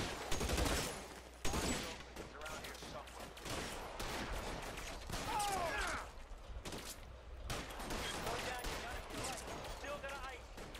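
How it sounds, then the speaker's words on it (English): Bursts of Tommy gun fire in the video game L.A. Noire, rapid rattling volleys and scattered shots mixed with game effects, a voice talking over parts of it. "the Tommy gun"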